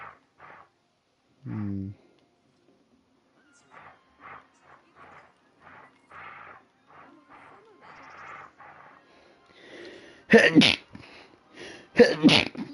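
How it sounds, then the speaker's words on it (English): Two loud, sharp sneezes burst out near the end, following a stretch of quiet, scattered talking and small rustling noises. "That was some big sneezes."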